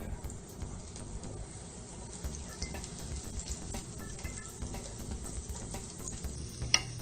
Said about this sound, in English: So I'm just melting my butter until it gets all liquidy.